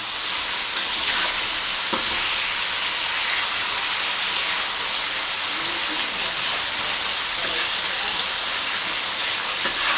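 Catfish pieces fry with red curry paste in a hot pan for a spicy stir-fry, giving a steady, loud, dense sizzle with crackle throughout and no talking.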